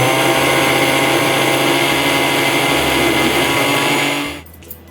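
An electric mixer grinds green chillies into paste in a home kitchen, a loud steady motor whine running for about four seconds before spinning down and stopping.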